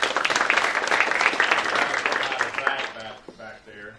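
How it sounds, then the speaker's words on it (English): An audience at an entrepreneurship seminar gives a burst of applause that stays dense for a few seconds and then trails off into scattered claps, while a voice begins talking near the end. "Let's give her a round of applause for doing that."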